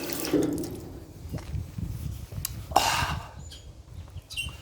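Tap water running from a faucet into a glass for drinking at a Year 11 school camp in Sydney, a soft steady splashing stream with a brief brighter gush midway, faint and close.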